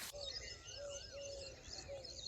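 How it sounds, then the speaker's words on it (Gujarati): Birds chirp and call in a village near Botad, with repeated short whistled notes and faint chirps over steady morning ambience, fairly close and clear. "પક્ષીઓ કેવા બોલે મિત્રો"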